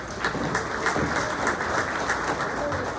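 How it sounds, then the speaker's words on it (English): Audience applause at a morning candidates forum, a steady wash of many hands clapping at once, loud and close, holding evenly throughout. "Let's give a round of applause"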